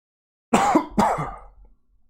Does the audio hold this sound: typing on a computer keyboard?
no